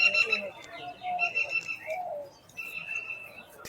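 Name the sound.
pigeons in a loft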